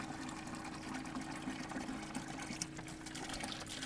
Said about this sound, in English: that's a good flow rate for a little 12 volt pump.